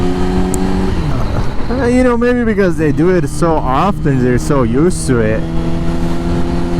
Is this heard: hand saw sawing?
no